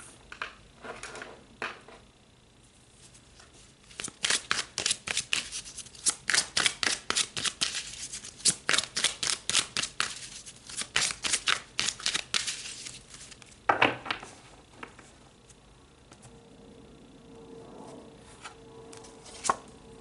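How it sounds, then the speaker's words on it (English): Tarot cards are shuffled and drawn for an eclipse reading, with a long run of rapid, crisp riffling snaps in the middle and softer shuffling before and after, heard close up and without talk. "Okay, so let's pull some more cards."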